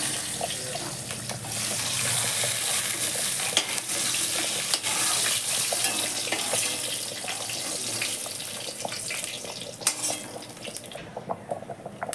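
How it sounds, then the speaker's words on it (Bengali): Fried coconut is strained out of hot oil with a steady crackling sizzle, scattered clinks and scrapes of a utensil against the pan, close and continuous, with no talking. "এবার আমি নারকেলটাকে তেল থেকে ছেঁকে"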